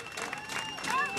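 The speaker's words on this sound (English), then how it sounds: "listen to the cheer as he launches himself off the start ramp" At a cycling time trial in Denmark, a crowd cheers and claps as a rider launches off the start ramp, with a commentator's voice running over a broad, steady wash of crowd noise.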